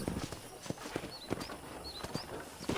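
Horse hooves clip-clop at a steady walking pace in the Red Dead Redemption video game, faint and even with soft, regular hoof strikes and no voices over them.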